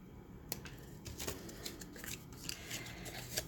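Scissors snip through spray-adhesive-stiffened paper mounted on cardboard while cutting out a small square heart-day tag, giving repeated close, crisp cuts with light rustling of the paper between snips.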